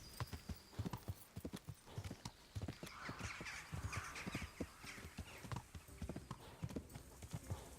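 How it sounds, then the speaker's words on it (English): Steady horse hoofbeats clop in the foreground while a group of crows caws in the distance midway through, in the video game Kingdom Come: Deliverance. "a load of crows get up there"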